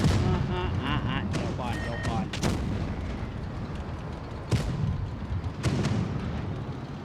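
Tank cannon shots in the World of Tanks video game, several loud booming blasts spread across a busy battle soundscape, with a voice talking over parts of it.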